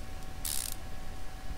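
Ratchet wrench tightening bolts while reassembling car parts in Car Mechanic Simulator 2015, a single short, faint clicking burst over a low steady background hum.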